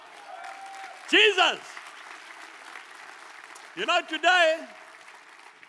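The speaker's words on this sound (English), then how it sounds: "Let's give Israel a big clap." Applause from a large concert crowd rolls on as a dense, steady wash while a voice speaks loudly over it in short phrases.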